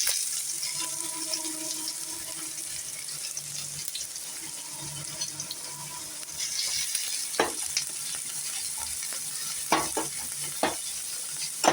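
Chopped large onion frying in a pan for masala dosa filling, a steady continuous sizzle with occasional stirring scrapes and clacks growing more frequent toward the end, no talk.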